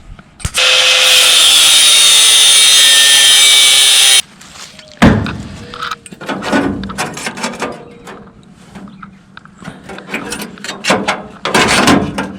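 A small stick welder runs on metal of a CJ5 Jeep with a loud, steady crackling buzz for several seconds, followed by scattered metallic clanks, knocks and tool handling nearby.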